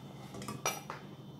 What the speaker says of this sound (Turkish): Onları şimdi tencereye alıyorum